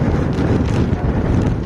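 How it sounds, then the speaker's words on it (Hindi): Strong cyclone winds during Cyclone Yaas in West Bengal: a loud, steady roar of gusting air buffeting the microphone, dense and continuous, with no voices. "तेज हवाएं चल रही है"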